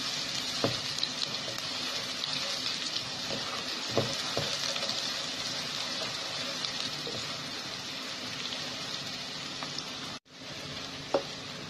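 Onions fry lightly in a pan with a steady, dense sizzle throughout, dotted with occasional stirring knocks and a brief dropout near the end.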